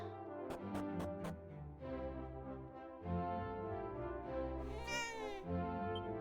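A cat character meows in Dragon Quest VII, a drawn-out, tonal cry that rises and wavers, loud and close over a sustained game music background with a few sharp plucked notes near the start.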